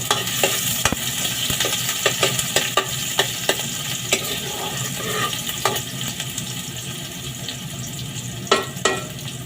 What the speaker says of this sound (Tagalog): Ayan, konting halo.